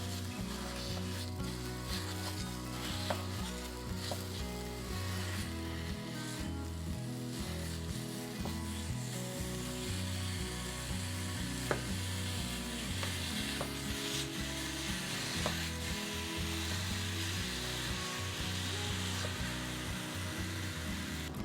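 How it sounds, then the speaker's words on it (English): Antelope meat browning in a pan for dirty rice, a continuous moderate sizzle with occasional stirring scrapes, close and steady, alongside a persistent low mechanical hum. "So the first thing I'm going to do is brown all of the meat."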